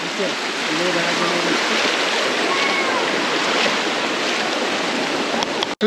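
Water rushes loudly and continuously at Khoiyachora waterfall, a dense broadband roar of falling stream water with a voice speaking briefly underneath.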